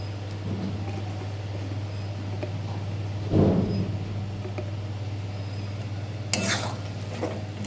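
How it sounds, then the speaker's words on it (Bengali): Paneer pieces fry with spinach in a pan under a low sizzle and steady hum, with a couple of stirring scrapes and a spoon clatter near the end, close and moderately quiet. "এবার আমি ভালো করে শাকের সাথে পনিরটা ভালো করে কষিয়ে নেব"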